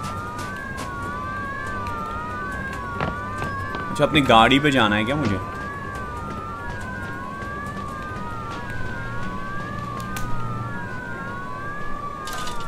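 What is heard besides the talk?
police sirens in video game Mafia Definitive Edition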